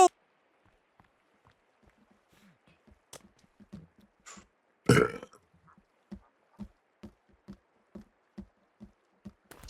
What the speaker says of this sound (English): Smell that burp, Kelvin